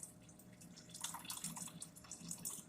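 Water pours from a tap into a pot of kidney beans, onions and a smoked ham hock, a faint continuous splashing trickle that swells slightly for a few seconds.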